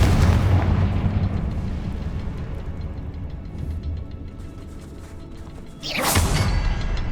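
Confringo fire spell explosions in the Hogwarts Legacy video game: a dense, rumbling blast-like roar runs throughout, dips slightly midway, then a sharper, brighter burst hits near the end.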